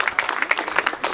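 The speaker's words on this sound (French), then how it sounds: "Je pense qu'on peut les applaudir" An audience at a statue unveiling ceremony in France applauds the technical services team, a short burst of crowd clapping with crisp, irregular hand claps close by.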